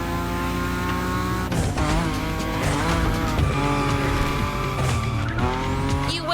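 In The Crew Motorfest, a car drifts with loud sustained tire squeal over a roaring engine whose pitch repeatedly drops and climbs, the screech breaking off and starting again several times, close and intense.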